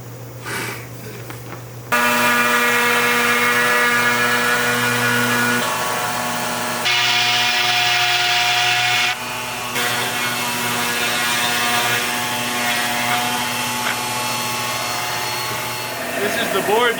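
Power tool sanding a skimboard in a board-building session, a steady loud mechanical whine with strong tonal hum running almost continuously, dipping briefly mid-way, with people talking over it.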